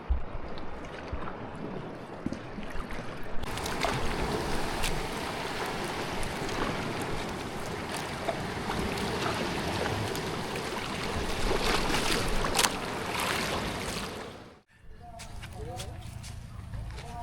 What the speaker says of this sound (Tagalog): Malalaking alon sa kanto.